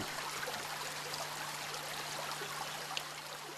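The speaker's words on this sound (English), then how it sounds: "Swarga is one such stream." Swarga, a mountain stream in hilly farmland, rushes and trickles in a steady broadband wash, continuous and fairly close, with a faint low hum beneath and no voices.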